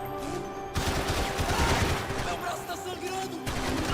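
Dense video game gunfire fills the scene, a steady roar of rapid shots and bursts starting loud after a brief quieter moment, with players talking over it.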